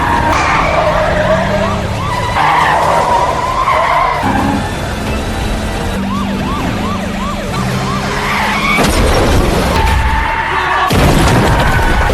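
Tyres skid and screech through a film car chase, with repeated wailing siren sweeps, a heavy boom and a dense rush of engine and traffic noise, loud and continuous from start to finish.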